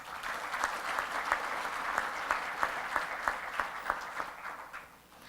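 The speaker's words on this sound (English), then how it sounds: "Let us give them all round a big round of applause." A big round of applause from a crowd at a UNESCO-Merck Africa research event: steady, dense clapping with sharper claps standing out, then fading near the end.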